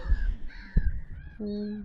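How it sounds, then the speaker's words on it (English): Crows caw loudly at close range beside Loch Fleet in the Scottish Highlands, a couple of harsh calls in quick succession alongside other birds calling over open water. "there's a load of birds just here."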